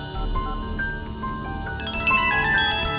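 An electronic phone ringtone plays a looping tonal melody, growing brighter and busier partway through, with no voices.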